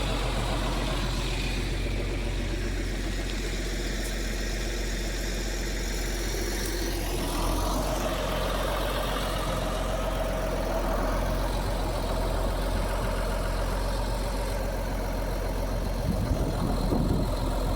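A tractor engine idles steadily after a hydraulics repair, a constant low mechanical drone with a slight shift in tone midway, heard alone without talk.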